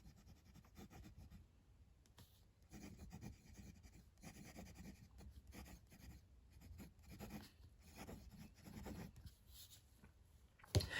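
Karas Decograph aluminium fountain pen with a fine nib and Monteverde black ink writing on paper, a soft close scratching that runs in steady strokes with brief pauses, no talking.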